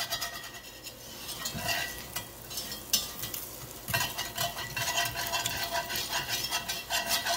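Beef bone broth hits a hot pan with a bubbling sizzle while a utensil scrapes and clinks against the pan in irregular strokes, close and fairly quiet, with no voices.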